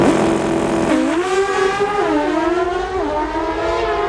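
Pro Stock drag bikes race in the U.S. Nationals finals, their high-revving engines whining loudly with stepped rises in pitch as they shift gears, heard from a distance over a steady crowd and track roar.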